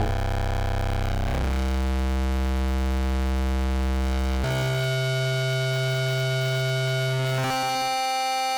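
Harsh, buzzing digital noise from image data played back as raw audio after JPEG compression, with steady droning tones that jump abruptly in pitch a few times, loud and continuous throughout.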